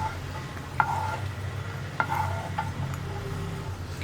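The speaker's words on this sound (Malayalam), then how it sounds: "റൈസിൻസും കൂടി ചേർത്ത് ഒന്ന് റൈസിൻസ് നന്നായിട്ട് വീർത്ത് വരുന്നത് വരെ ഇളക്കി കൊടുക്കുക" Raisins roast in ghee in a pan with a steady low sizzle, broken by a few sharp clicks as a spatula stirs them. No voices are heard.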